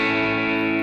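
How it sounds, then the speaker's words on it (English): A sustained electric guitar tone through a regular digital delay setting on a UAudio Reverb amp, loud and close, ringing as one held chord with repeating echoes. "Here's a regular digital delay."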